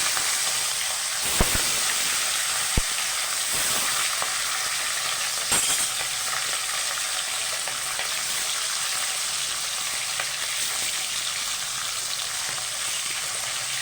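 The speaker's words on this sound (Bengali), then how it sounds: "এবার মাছগুলো দিয়ে দিচ্ছি।" Pieces of hilsa fish fry gently in oil in a pan with a steady, loud, close hiss and faint crackle, and a few sharp knocks early on, with no voices.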